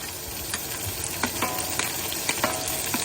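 Onion and green chili frying in oil in a pan, a steady broadband sizzle with a few soft stirring scrapes and taps spaced through it, close and moderately loud, with no talking.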